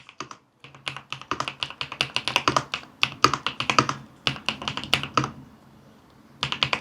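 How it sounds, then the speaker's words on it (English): Fingers type on a retro beige mechanical keyboard at a desk, rapid close clacky keystrokes in uneven bursts with a short pause near the start and another near the end. "I don't know much about mechanical keyboards, but this one sounds so good and I love typing on it."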